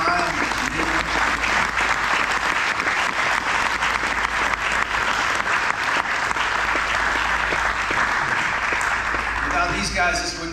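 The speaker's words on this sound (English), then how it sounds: "give these guys a round of applause" An audience at an end-of-year celebration claps steadily and loudly for about ten seconds in a dense, sustained round of applause, with a voice briefly audible as it fades.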